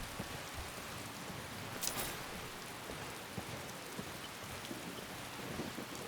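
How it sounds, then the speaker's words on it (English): Rainstorm ambience in Skyrim with steady falling rain and a low rumble of thunder, one brighter crack near the two-second mark, faint and continuous without talk. "Loud thunder. Loud noises."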